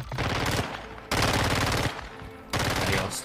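AI enemies firing in Call of Duty MWII DMZ at a stronghold: loud bursts of automatic gunfire in three dense blasts separated by short gaps, close and harsh with no talk over them.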